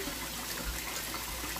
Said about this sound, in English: Turn this water off.